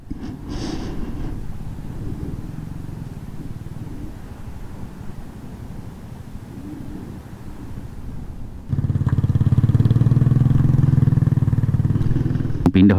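A Honda CB650R motorcycle engine hums steadily while riding, then grows suddenly louder and rougher partway through, with wind noise and voices talking over it.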